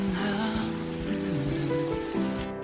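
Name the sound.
pouring rain in a Korean drama scene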